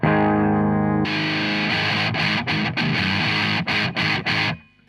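An electric guitar runs through a Digitech Hothead overdrive pedal with the drive at noon: a sustained distorted chord opens, then chopped, rhythmic overdriven strumming with short gaps, loud and close, ending in a fade.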